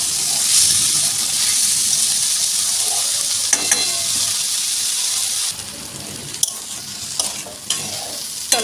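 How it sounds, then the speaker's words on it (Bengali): Food in a pan is stirred after salt and turmeric are added for a rice dish, with a loud, continuous sizzle and scraping strokes of a spatula, close up and without talk. "দিয়ে দিলাম লবণ জাস্ট একটু নেড়ে নেব চলো"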